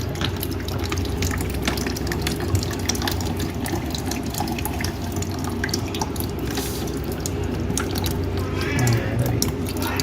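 Water drips and trickles steadily from the back of a window air conditioner, a constant patter of small drops at close range that carries on throughout.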